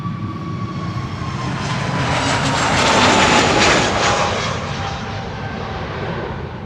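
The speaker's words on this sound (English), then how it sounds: "A321neo to London Heathrow." An Airbus A321neo jet departs Amsterdam Schiphol bound for London Heathrow, its engines a loud, broad roar that swells to a peak midway and then eases off slightly, with a faint whine over the rumble.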